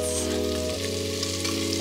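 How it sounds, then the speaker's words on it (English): Sausage and onions sauté in a pan inside a tiny home on wheels, a soft even sizzle running under a low steady hum, with a faint clink near the end. "Now I just want to saute the sausage with the onions until the onions are soft and clear"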